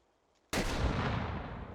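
An M1A1 Bazooka rocket exploding in the VR game Hot Dogs, Horseshoes & Hand Grenades: a single sudden loud boom after a quiet moment, followed by a long, heavy rumbling roar that slowly fades, with no voices.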